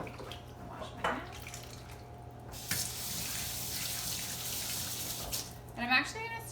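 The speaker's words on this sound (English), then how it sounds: "Wash my hands." Tap water running into a kitchen sink while hands are washed during black bean burger prep, a steady close rush that starts and stops, with brief voice sounds near the end.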